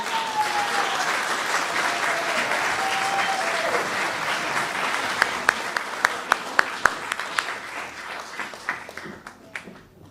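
Applause from an audience at an awards event, a dense sustained wash of many hands clapping that thins out near the end into a few scattered, louder individual claps before stopping.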